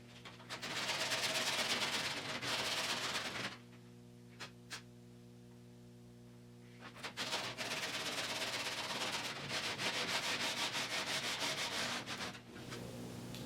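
Hand sanding on the bodywork of a 1972 Triumph GT6 under restoration: two long stretches of steady, close abrasive rubbing with a short quiet pause between them, loud and alone with no talking.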